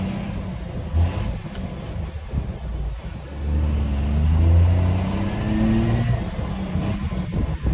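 A manual-transmission car's engine rises in pitch as it accelerates during a driving lesson, a steady mid-range hum that climbs and swells, heard from inside the cabin amid faint knocks and interior rustle.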